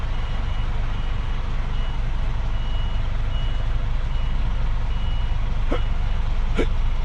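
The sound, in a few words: truck reversing with backup beeps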